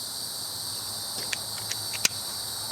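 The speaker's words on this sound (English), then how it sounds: "That's those early summer cicadas that come out every year." Early summer cicadas drone in a steady, loud high-pitched chorus outdoors at a shooting range, with a few faint clicks and taps over it.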